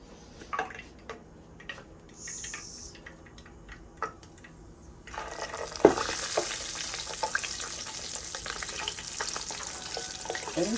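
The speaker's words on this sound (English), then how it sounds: "Now this one is giving me the sizzle I expected." Quiet clinks and drips give way to a loud, steady sizzle as floured food hits hot oil and keeps frying close up.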